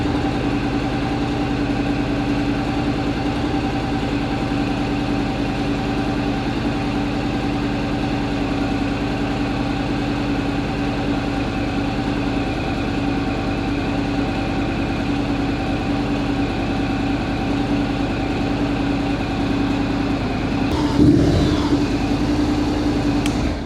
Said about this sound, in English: So I will turn the bike on, start the engine